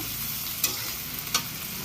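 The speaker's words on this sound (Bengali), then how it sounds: "পেঁয়াজটাকে এবার একটুখানি ভাজা ভাজা করে নেবো" Onions sizzle steadily in a hot pan, with a couple of sharp scraping stirs breaking through the constant frying hiss.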